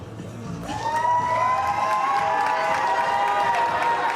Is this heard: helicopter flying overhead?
no